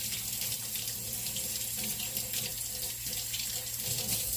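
A kitchen tap runs steadily while hands are washed under it, a close, continuous splashing hiss of water into a sink with no pauses or talking.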